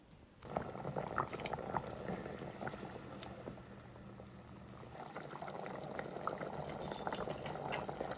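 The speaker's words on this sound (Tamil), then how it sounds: "ஒரு 5 நிமிஷம் நல்லா கொதிக்கட்டும்" A pan of thick paneer capsicum gravy bubbles and simmers steadily, with soft popping and sputtering throughout.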